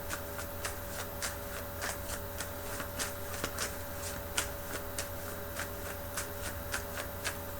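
Tarot cards shuffled by hand in a quiet room, a run of soft, quick riffling flutters repeating at a regular pace over a low steady hum, with no voices.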